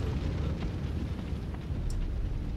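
In the video game Shadow Warrior, fire roars into a burning room from outside as a continuous low rumbling whoosh, fairly loud and steady, with a faint brief crackle near the end and no talking.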